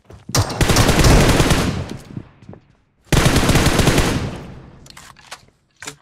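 Sustained automatic machine gun fire in the battle royale game BGMI, two long loud bursts separated by a short pause, then a brief third burst at the end, with no talking.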